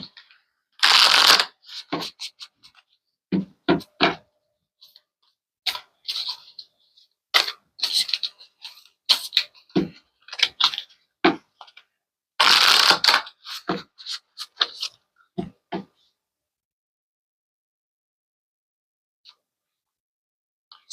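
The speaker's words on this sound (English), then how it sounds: "Let's pull some energy cards." Energy oracle cards being shuffled by hand, crisp riffling bursts and soft slapping taps in irregular clusters, close and loud, separated by silent gaps, with no talking.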